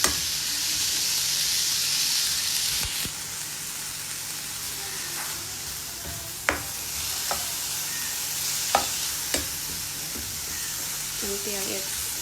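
Banana flower being stirred with pepper and salt in a pan, a steady sizzle and hiss of frying throughout with a few sharp utensil taps and scrapes standing out near the end.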